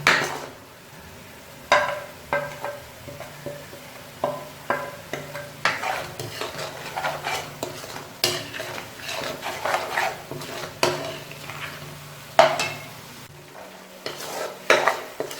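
Spices for dal mash are roasted and stirred in a pan, with repeated close scrapes and clinks of a utensil against metal over a low sizzle, irregular and steady for the whole stretch.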